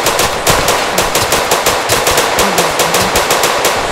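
Rapid automatic gunfire from a Chicago-themed video game rattles loud and close in steady bursts throughout, with no talking.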